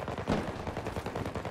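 Rapid gunfire bursts and a grenade-like blast from the video game Battlefield 2042, using an M16A3 loadout, dense and continuous with repeated sharp shots throughout.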